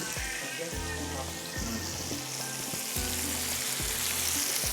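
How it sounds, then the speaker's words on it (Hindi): Curry leaves crackling in hot oil for a tarka in a spicy pepper chicken dish, loud continuous sizzling with rhythmic low thumps and light spattering throughout, no voices. "कड़ी पत्ता डालते हैं और इसको कवर करेंगे।"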